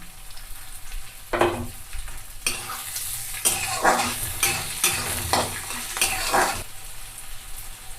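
Green chilies and onion are dropped into hot oil with garlic, crackling and sizzling close by, while a spoon stirs and scrapes the pan in uneven bursts.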